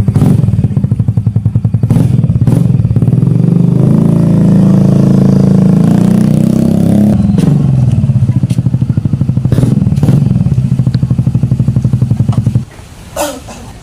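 A Yamaha Fazzio 125 scooter fitted with a full-system exhaust idles and revs nearby, giving a loud, steady, throbbing engine note that swells and settles for about twelve seconds before cutting off, followed by a few light clatters.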